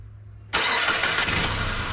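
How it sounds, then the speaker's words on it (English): A 2012 Nissan Versa with a rough idle and delayed pedal response cranks and catches abruptly, then settles into a loud, steady, slightly uneven idle close by, with no talking. "let's start the vehicle up and see, you know, if it makes a difference"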